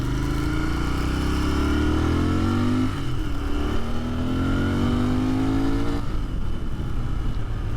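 A Royal Enfield Continental GT 650 motorcycle engine revs steadily and loudly in first gear, pitch climbing, dropping briefly around the third second, then climbing again before easing off.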